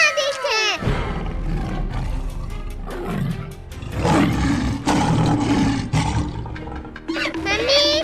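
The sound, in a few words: tiger roaring, Sher Khan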